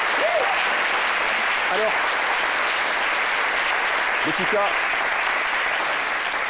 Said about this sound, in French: Ça, encore, ça mérite bien évidemment un courant d'applaudissements.